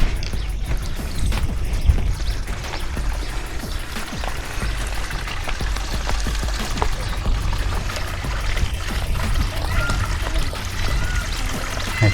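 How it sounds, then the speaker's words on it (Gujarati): Water flows slowly into a large pond beside a big banyan tree on Osham hill, a steady, fairly loud broadband rush and trickle running continuously throughout with faint outdoor ambience. "ધીમે ધીમે પાણી જાય છે આમાં"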